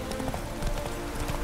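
Hooves of the horse Roach clip-clopping in The Witcher 3, a steady, even trot heard up close, continuous and fairly loud over a busy game soundscape.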